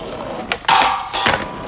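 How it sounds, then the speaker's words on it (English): A skateboard doing a nose grind to front board on a flatbar: a short scrape, then a longer loud grinding slide, then a sharp landing clack, all close with no talk. "my fourth trick, nose grind to front board"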